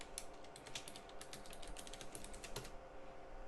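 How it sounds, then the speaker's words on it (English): A username is typed on a computer keyboard, a quick, close run of light key clicks with no talking. "Type in the username twice"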